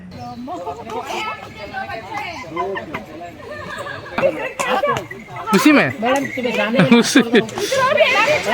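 Horses during a trail ride in Coorg, with whinnies rising through steady chatter and voices of riders, the sound swelling louder toward the end.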